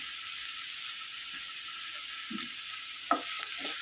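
Frying onions with tomato just added in a Kerala drumstick stir-fry: a steady, fairly loud sizzle throughout, with a couple of soft stirring knocks near the end and no talk.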